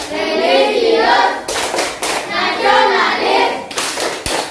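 Rhythmic clapping patterns from a classroom group of children doing the Tepuk PPK cheer, loud bursts of claps in set beats alternating with the group chanting in unison.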